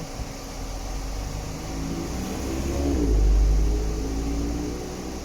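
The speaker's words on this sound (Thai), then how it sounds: "เร่งเครื่องหน่อย" A car engine revs up during an air-conditioning check and refrigerant top-up, swelling to a louder peak midway and then easing back, with a steady idle hum underneath.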